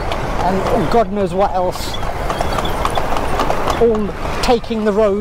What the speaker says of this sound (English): so far so good in this horse and cart ride in Lucknow